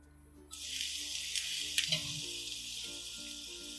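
Garlic hits hot olive oil in a pan over medium-high heat and bursts into a loud, close sizzle that crackles on steadily.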